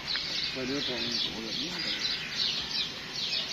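Birds chirp and coo in short calls over steady background noise and distant voices.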